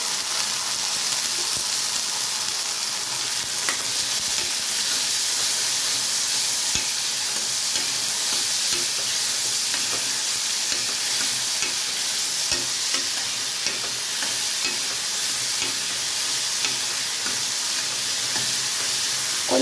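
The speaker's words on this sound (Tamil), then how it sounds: "இந்த கட் பண்ணி வச்ச சுண்டைக்காவை வானில் குட்டிடுறேன்." Chopped turkey berries fry in a pan with a loud, dense, continuous sizzle and hiss, while occasional stirring is heard underneath for the whole stretch, with no voices.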